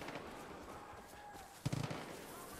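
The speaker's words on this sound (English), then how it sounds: "when you hear gunshots." Distant gunshots in the video game Far Cry 5, a quick burst of four or five faint cracks coming out of a low background hum.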